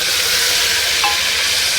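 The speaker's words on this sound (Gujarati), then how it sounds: "વઘાર મારવાનું હોય વઘાર વઘારવાનું હોય" Spices crackle and sizzle in hot oil during tempering, a steady, close, continuous hiss that runs through the whole moment with no talk.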